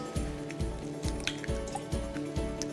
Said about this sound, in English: I'm going to crack them into the bowl.